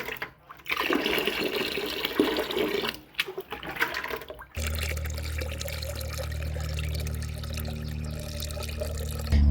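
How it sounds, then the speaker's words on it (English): Water pours and splashes steadily through a screen into a bucket of crushed soil, first in uneven gushes with brief pauses, then as a continuous heavy rushing flow with a low churning rumble. "We mix the soil with lots of water."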